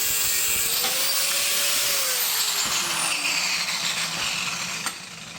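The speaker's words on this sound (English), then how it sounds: "Now I just gotta cut down till I get the old steel off." A cutting tool grinds through old steel on a Jeep shifter, a loud continuous abrasive whine with shifting pitch and a sharp change near the end.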